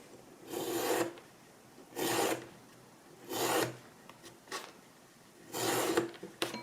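A hand saw cutting wood, five separate bursts of rasping back-and-forth strokes with short pauses between them, close and clear.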